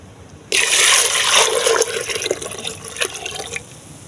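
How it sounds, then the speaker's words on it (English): Milk pours into a pot already bubbling on the stove: a sudden loud splashing rush kicks in, then settles into gurgling, dripping liquid that fades toward the end, with no talk. "Alright, I get the milk in it now."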